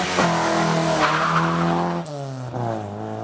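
Classic rally cars leave the start line on a cold, overcast Cornish morning, heading for a coastal test stage. Engines rev hard and climb through the gears with tyre squeal, and a second car's note follows close behind.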